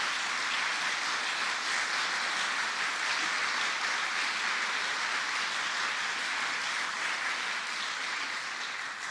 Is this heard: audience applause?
yes